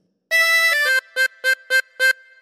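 Harmonica playing the opening phrase of The Grand Old Duke of York, holes five and four: one held blow note sliding down, then five short evenly spaced repeated notes, close and solo.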